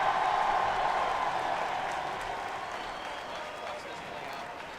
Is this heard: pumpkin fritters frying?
no